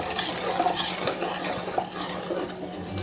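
Sugar syrup for halwa being stirred in a pan, with a utensil scraping and clinking against the metal in an irregular rhythm over a faint bubbling simmer, close and moderately loud, no voices.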